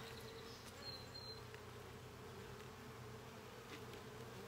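Honeybees buzz steadily during a hive inspection, a dense, continuous drone close by with no pauses.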